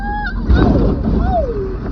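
A vehicle horn blares on a night road beside a loaded four-wheeler, giving a couple of wavering, nasal honks over a steady engine and road rumble.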